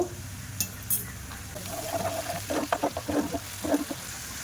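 Ginger-garlic paste sizzling in a frying pan with browned onion and garlic, a steady close hiss broken by quick stirring scrapes and small pops.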